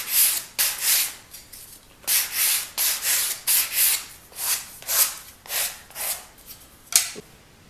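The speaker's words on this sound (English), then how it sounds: "I suggest the first thing you do is deburr the edges, get all the fuzz and stuff off of there." Basswood organ pipe edges being deburred by hand sanding to remove fuzz, heard as a steady series of close, rhythmic rasping strokes with short gaps between them and no talking.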